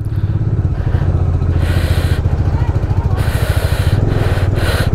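A motorcycle churns along a rough off-road mountain trail in Manang, Nepal, with its steady loud engine thrum pulsing rhythmically close up and gusts of wind noise rising and falling over it.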